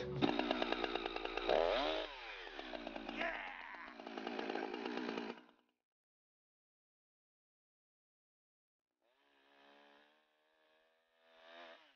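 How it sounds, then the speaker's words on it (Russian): A chainsaw snarls loudly for several seconds cutting a tree in New Zealand, its engine pitch rising and falling, then cuts off; a faint motor hum returns after a pause. "Мы взяли его бензопилу, а он сейчас спилит."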